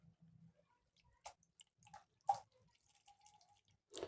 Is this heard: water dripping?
yes